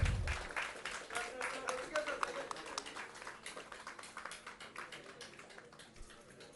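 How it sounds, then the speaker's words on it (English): Applause from the audience at a press clubs national conclave, steady scattered clapping throughout, moderately distant and fairly faint, with some background voices. "A bigger round of applause, please."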